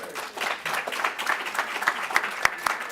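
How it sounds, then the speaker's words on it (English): An audience at a photography event's exposure stage gives a round of applause, dense, steady clapping from a sizable crowd lasting the whole stretch, close and fairly loud. "One more time, round of applause."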